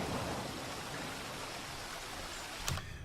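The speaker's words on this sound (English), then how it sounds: "there's something hypnotic about that viscous green waterfall" A viscous green waterfall in the video game Dead Synchronicity gives a steady, soft, broadband rushing wash of falling liquid that continues unbroken throughout, with one brief sharp click near the end.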